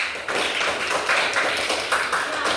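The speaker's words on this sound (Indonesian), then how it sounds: "kita berikan tepuk tangan untuk kelompok 3" Classroom applause for a student group: dense, continuous hand clapping from many pupils, close and fairly loud, steady throughout with no voices standing out.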